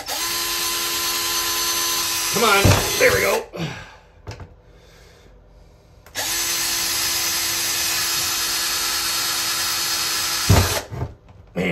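A power drill whines loudly and steadily while drilling into a cracked fiberglass bathtub, stops for a couple of seconds, then runs again, with brief spoken remarks and grunts over it.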